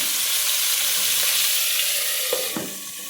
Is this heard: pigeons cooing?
no